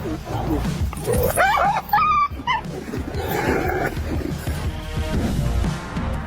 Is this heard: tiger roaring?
yes